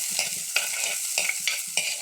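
Green chillies, tomato and other ingredients sizzle in a pan with repeated rhythmic scrapes and stirs, a steady frying hiss running underneath, close and fairly loud with no talking.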